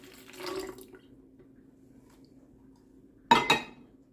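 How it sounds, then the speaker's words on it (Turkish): Lemon juice squeezed into a lemonade mixture in a kitchen, heard as a short wet spatter near the start and a louder brief splash and drip near the end, with quiet between. "Ardından bir limonumun suyunu ekliyorum."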